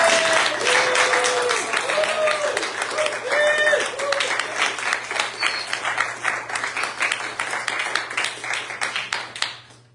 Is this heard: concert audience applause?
yes